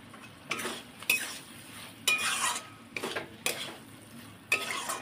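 A utensil stirs chicken filling for puli pitha in a pan, with several scraping, clattering strokes over a faint sizzle, close and fairly quiet, with no talking.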